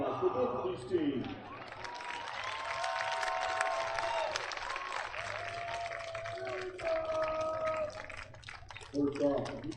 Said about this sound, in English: One more time, a big applause for both of these teams.